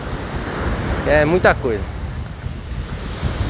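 Strong wind roars across a beach with surf behind it, a steady broadband rush with gusty buffeting on the microphone, while someone speaks briefly in Portuguese over it.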